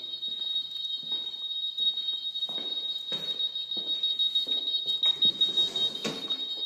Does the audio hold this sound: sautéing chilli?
no